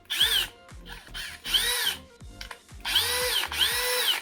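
A cordless drill whirs in several short, loud bursts, spinning up and down with brief gaps between each run, close to the listener.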